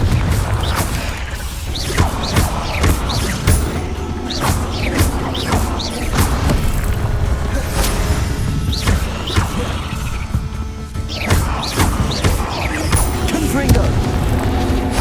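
Confringo blasting-spell explosions in Hogwarts Legacy, repeated booms, crashes and thuds amid busy combat effects, loud and near, with voices over the fighting.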